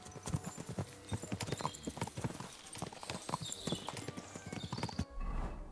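Horse hooves clip-clop in a steady, rapid rhythm while riding in the video game Kingdom Come: Deliverance 2, close and fairly loud, with a brief whinny-like tone, and the hoofbeats drop away near the end.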